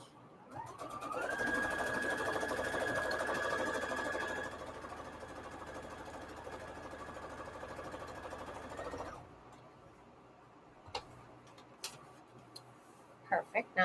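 A sewing machine stitches fabric scraps for a string quilt, running steadily in one sustained burst of about eight seconds before stopping, followed by a few faint clicks and handling noises.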